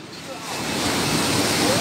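Rough sea waves crash on the beach at Nha Trang, a rising, roaring wash of surf that swells louder across the moment, mixed with heavy wind buffeting the microphone.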